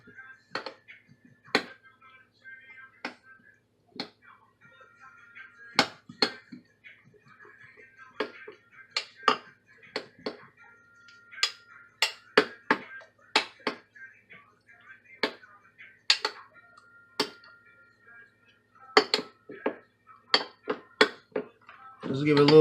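A utensil scraping and clinking against a cooking pot while tomato paste is stirred in, irregular metallic taps and knocks close by in a quiet kitchen.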